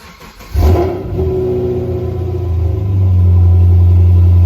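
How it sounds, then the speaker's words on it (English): A Chevrolet Camaro V8 engine cold start: it cranks and fires up, roaring loudly before settling into a deep, steady rumbling idle close by. "get y'all that cold start because this thing sounds amazing when it starts up"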